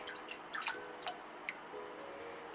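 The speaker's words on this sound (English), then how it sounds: "I'm going to put a little bit of water in here. And I'm going to wet the brush." Water poured into a tub of homemade tobacco and bay leaf shaving soap and a shaving brush being wet, heard as faint scattered drips and small splashes over a quiet background, with no talking.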